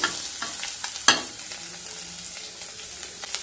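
Chopped onion and carrot frying on medium heat after curry leaves and asafoetida for rava appe, a soft steady sizzle close by with scattered clicks of a spatula stirring, one sharper scrape early on; no voices.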